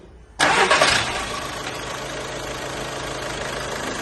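A car engine cranks and catches after a timing belt service, jumping to a loud, close start and then settling into a steady, even idle that runs on without talk.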